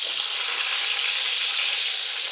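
Beef browns in a pot for a red wine braise with root vegetables, giving a loud, steady hiss and sizzle close up that stays even throughout with no talking.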